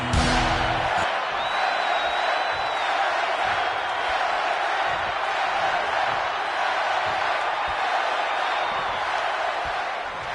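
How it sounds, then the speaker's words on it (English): WWE 2K25 arena crowd roaring in a steady, loud wash of cheering and whooping that holds without a break, with a faint whistle rising above it. "the roar of the crowd tells you all you need to know"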